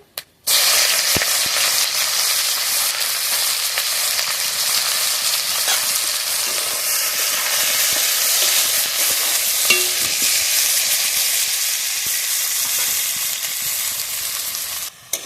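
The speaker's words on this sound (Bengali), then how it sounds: "এবার আমি ফোড়নে দিয়ে দেবো গোটা গরম মশলা আর শুকনো লঙ্কা ওই তেলের মধ্যেই দিয়ে দেবো পেঁয়াজ কুচি" Chopped onion frying in oil with whole garam masala and dried red chilli: a loud, dense, continuous sizzle and hiss that holds steady for the whole stretch, with occasional faint stirring ticks and no speech.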